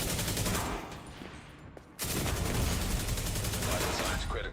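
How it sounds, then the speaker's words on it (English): Automated turret gunfire in The Division 2 rattles as dense, rapid bursts that fill the whole stretch, easing briefly partway through before resuming at full loudness. "Oh, they just activated one of those turrets in here."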